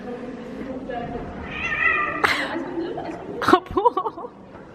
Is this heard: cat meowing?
yes